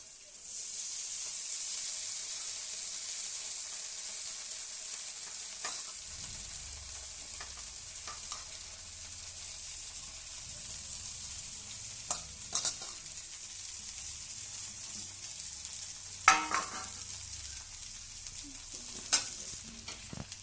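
Flattened rice (chuda) and onions fry in a pan for upma, giving a steady sizzling hiss. After a few seconds a low rumble joins in, and occasional scraping clicks mark the stirring. No talking.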